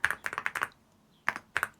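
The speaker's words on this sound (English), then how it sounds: "I'm going to start by typing the brand name." Quick bursts of typing on a computer keyboard, close and crisp, come in two short runs of clustered key taps separated by a brief pause.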